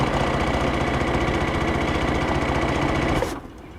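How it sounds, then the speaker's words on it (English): A sewing machine stitches around two layers of fabric for a face mask, a fast steady mechanical rattle running continuously and loud, then cutting off abruptly near the end to leave quiet room tone. "So I'm going to sew around this and insert elastic in the corners."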